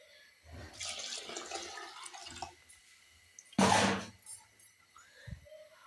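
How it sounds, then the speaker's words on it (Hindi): Water is poured from a vessel into a cooking pot of moong dal, two splashy bursts a little apart, then a brief clink, close and moderately loud in a quiet kitchen. "और इसके अंदर हमें डालना है पानी।"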